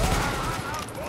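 Enemy gunfire in the shooter game The Division crackles as a dense, continuous burst of shots, loud and close, with voices talking over it.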